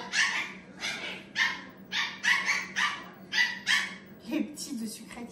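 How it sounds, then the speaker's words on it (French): Young puppies shut indoors on a hot day yelp and bark in a quick series of about a dozen close, high-pitched cries, with a brief whimper near the end. "Les petits de sucrète, ils n'arrêtent pas de crier."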